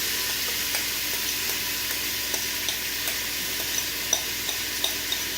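Vegetables sear in a very hot pan for jambalaya in a quick cooker, giving a loud steady sizzle, while silicone tongs stir them in light, regularly spaced scrapes and clicks.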